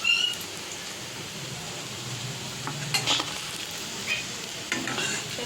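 Semolina and potato breakfast snacks frying in a pan, a steady oily sizzle with occasional scraping and clinks of a utensil turning the pieces, close and alone.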